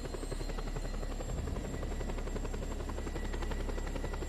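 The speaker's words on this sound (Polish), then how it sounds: "Ale się wleczy ten helikopter, nie da się go przyspieszyć jakoś." A helicopter in the Just Cause 2 video game drones on continuously with a steady rotor thump and a buzzing engine, moderately loud and even throughout, with no talking.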